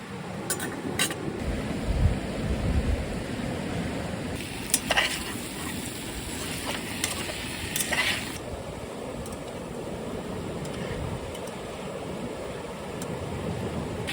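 Tomatoes sizzle and fry in a pan over a high flame, a steady crackling hiss broken by a few sharp scraping knocks as they are mashed, with some wind noise mixed in.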